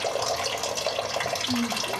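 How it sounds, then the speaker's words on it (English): Water runs steadily through a barnwood garden bench fountain, a soft continuous trickle and splash heard up close with no one talking. "here's another garden bench with the running water through it and everything"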